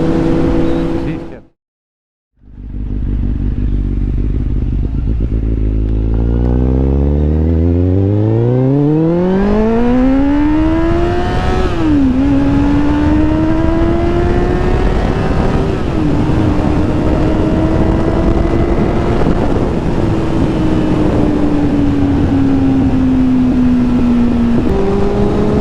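A car engine revs and accelerates hard close behind a motorcycle on the road, its pitch sweeping steadily upward, then holding a strained, rising drone, with steady wind and road roar throughout.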